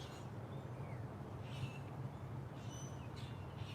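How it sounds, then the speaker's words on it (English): Birds sing in a sunny backyard, faint scattered chirps and short whistled calls drifting over a steady low hum. "the birds sound so good."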